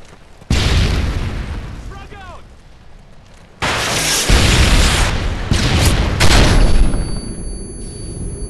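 A grenade goes off in Call of Duty: Modern Warfare 3, a loud close boom with a broad noisy blast that rolls on under more gunfire and explosions from the game.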